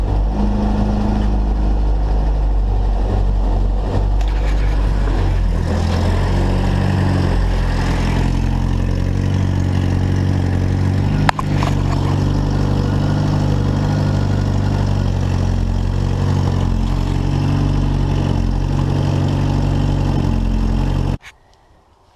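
A Series One Land Rover's 2.25-litre petrol engine, fitted with motorcycle exhaust pipes, idles steadily and loudly for about twenty seconds with a deep, throaty exhaust tone, then cuts off abruptly at the end.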